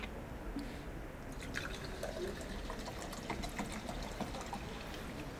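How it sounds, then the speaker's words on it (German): A drink is poured into a glass, a faint, steady trickle with scattered drips and splashes running for several seconds at low volume. "Ich muss jetzt mir was zu trinken einschenken."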